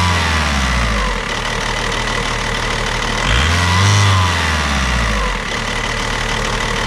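A VW Audi 1.9 TDI 110 hp diesel engine with hard starting is revved once from a rough, shaky idle, the loud close engine drone rising and falling before settling back unevenly.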